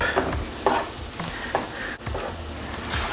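An egg mixture with turmeric is stirred in a hot pan, with a spoon scraping and swishing in repeated strokes over a steady close sizzle of frying.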